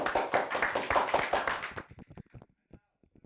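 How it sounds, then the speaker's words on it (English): A room of people claps for a speaker at a Stockport College event, starting as a dense, loud burst of applause and then thinning out into a few scattered claps. "Another round of applause, please"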